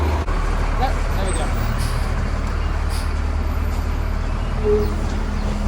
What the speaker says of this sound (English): I'm gonna let this truck go by.